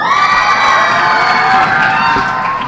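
A loud crowd of teens at a teen summit cheers and shouts continuously, high excited voices whooping together, sustained and close throughout.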